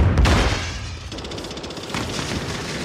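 Heavy, close gunfire and booming impacts fill a Call of Duty Warzone firefight, with repeated sharp bursts over a loud rumbling background and no talk.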